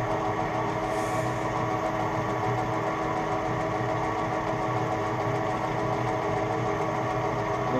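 A metal lathe machining a bronze nut, a steady continuous mechanical hum and whir with faint cutting noise, even in level throughout and heard up close without talking.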